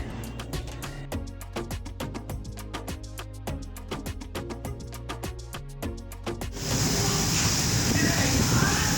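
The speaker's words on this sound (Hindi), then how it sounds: "बहुत ज़बरदस्त सी बारिश हो रही है" A heavy downpour roars loudly and steadily through the last couple of seconds, following a stretch of rhythmic tapping and knocking sounds.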